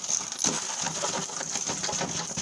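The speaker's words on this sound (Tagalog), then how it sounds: "At doon na bumaha ang barya at tig 20 pesos." A flood of 20-peso coins pours out from inside a plywood door, a dense continuous metallic jingle and clatter, loud and close with no talk.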